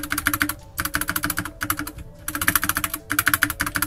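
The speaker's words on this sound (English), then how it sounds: "you'll be pressing the space bar like this" Space bar presses on a Corsair K65 RGB Rapidfire mechanical keyboard, a quick run of close, loud clacks in bursts with short pauses between, no talking.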